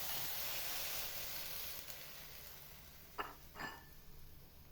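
Seafood goes into a hot pan for a surf-and-turf soup, giving a steady broad sizzling hiss through the clip, with a couple of short metallic clinks of utensils near the end.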